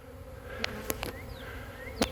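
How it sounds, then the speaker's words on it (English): Honey bee swarm buzzing outdoors in a steady low hum, with a few louder bees zipping close past at moments. "We're having a swarm right now, of all things."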